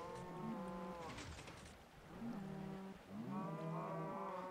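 Cows in the Minecraft video game moo in several drawn-out, low, tonal calls, one after another, fairly close and clear with no talk over them.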